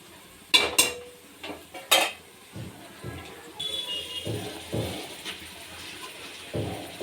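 Pieces of mutton go into a pan of fried ginger-garlic paste for goat curry, with sharp metallic clinks and scrapes of utensils against the pan followed by softer sizzling and stirring sounds, close and without speech.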